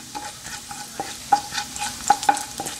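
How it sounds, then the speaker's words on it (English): Fennel seeds and dry chilies fry in hot oil while a spoon stirs and scrapes the pan, giving a light crackling sizzle broken by sharp irregular clinks and scrapes, close and clear with no talk. "First I am going to add fennel seeds and dry chilies."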